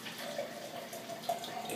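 Brewed coffee pours from a mug into a Magic Bullet blender, a steady close liquid stream with a few small splashing bursts, no talking.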